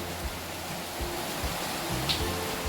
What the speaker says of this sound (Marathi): हा बघा पाऊस आता थोडासा कमी झालेला आहे